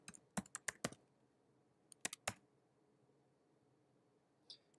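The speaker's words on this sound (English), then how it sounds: "it requires me to type in my credentials" Fingers tap out credentials on a computer keyboard to log into a Raspberry Pi over secure shell, a quick burst of keystrokes, a pause, a few more presses, then one faint click, close and otherwise quiet.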